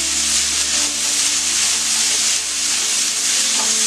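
Masala for a Kerala-style egg roast sautés in a pan, giving a continuous, fairly loud frying hiss with a faint hum beneath, steady throughout without pauses.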